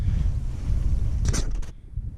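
Wind gusting across the water while kayaking, a low rumbling buffet of wind noise with a short rustling burst near the end and no talk.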